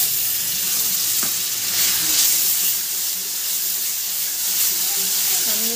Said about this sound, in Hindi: देखिए प्याज हो चुकी है, अब इसमें लहसुन और अदरक का पेस्ट डाल देते हैं।